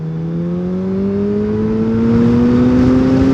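Suzuki Bandit motorcycle, a young-rider 34 hp version, pulling in second gear around 4,000 rpm, its engine note climbing steadily as revs build, loud and close, with no talk over it.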